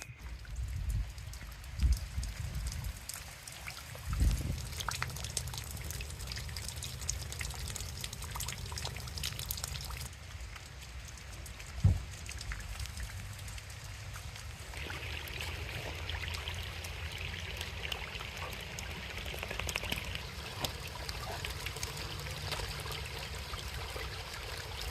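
Steady rain falls outdoors on a farm, a continuous trickling and pattering wash with occasional louder drips and knocks, no voices heard.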